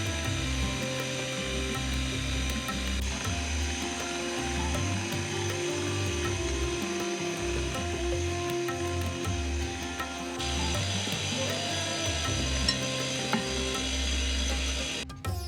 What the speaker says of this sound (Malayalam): ഇതിനിയും കുറച്ചായിട്ട് മിക്സിയിലേക്ക് ആഡ് ചെയ്ത് നന്നായിട്ട് മിക്സ് ചെയ്യണം